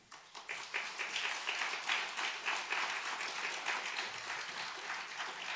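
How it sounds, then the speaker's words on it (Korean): Audience applause welcoming a missionary to the front during a church service, steady dense clapping that starts and holds at a fairly even level throughout. "이 시간 나오실 때 우리 환영의 박수로 환영하겠습니다."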